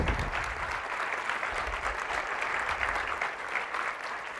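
A church congregation claps in steady, dense applause, a continuous wash of many hands at fairly close range that lasts the whole moment without pause.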